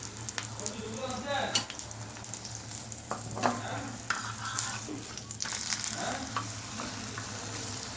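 A paratha fries in a small amount of oil in a pan, giving a steady close sizzle with crackles, scraping and stirring noises, and occasional soft talk underneath.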